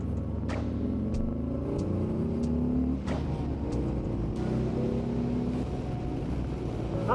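The engine of a 2024 Harley-Davidson Freewheeler trike rumbles close by and is blipped through a couple of throttle rises, a deep steady drone with short revving swells and no speech.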